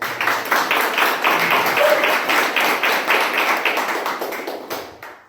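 A roomful of people at a Toastmasters meeting clap in a dense, steady round of applause that holds fairly loud for several seconds before tapering off.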